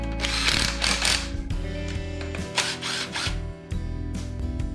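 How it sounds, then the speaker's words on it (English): A ratchet removing internal timing case bolts from a Cummins 6BT engine, clicking in quick repeated bursts of ratcheting strokes, close and fairly loud, with short pauses between runs and no speech. "So I'm just going to take each of these bolts out, the internal timing case bolts"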